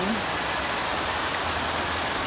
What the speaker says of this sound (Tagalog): Si Goofy po ay umiinom ng tubig habang habang binubulwakan ng mga ng isda ng tubig din.